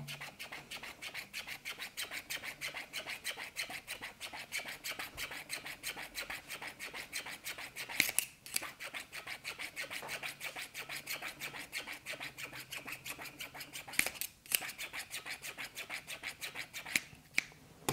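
Scissor blades are rubbed repeatedly along an edge to sharpen them at home, a fast, even rasping scrape repeating steadily for about eighteen seconds with a few brief pauses and no talking.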